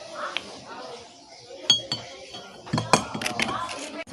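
A spoon clinks against a bowl while honey is added to squeezed orange juice for a traditional cough remedy, giving a few sharp, close metallic taps with soft background sounds.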